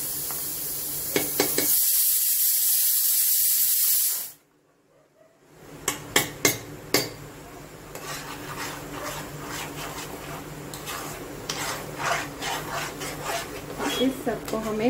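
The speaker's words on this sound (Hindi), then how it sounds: "और अब इस पे हम डाल देंगे ये मसाला और इस सब को हम अच्छे से भूनेंगे।" Ginger garlic paste and masala fry for mutton paya with a loud, steady sizzle. After an abrupt stop, a utensil stirs and scrapes in quick, uneven strokes while the frying continues more quietly.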